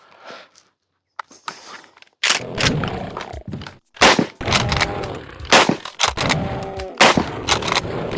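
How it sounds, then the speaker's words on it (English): Shotgun blasts in a video game come as several sharp, loud bursts with short gaps, mixed with in-game thuds and effects. "We'll just do the rest of the shotgun here, I guess."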